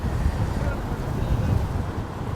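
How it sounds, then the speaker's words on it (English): Strong wind buffets the microphone in a constant low rumble with gusty swells throughout, among the islands near Stockholm, Sweden. "It is incredibly windy, so I'm glad I've got my mic on here"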